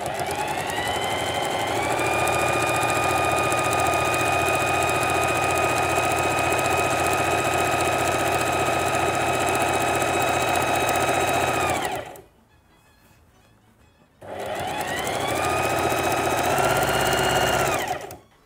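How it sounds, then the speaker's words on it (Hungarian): Sewing machine running a straight seam on indigo-dyed fabric for a skirt, a loud steady whirring hum that stops for about two seconds, then starts again and runs on before ending. "ezt fogom egyszerű egyenes varrással végigvarni, az elején és a végén elerősítve"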